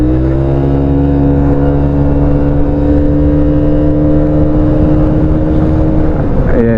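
Loud, close engine of a 2023 Italjet Dragster scooter droning steadily at a fairly constant pitch, with a brief rev shift right at the end.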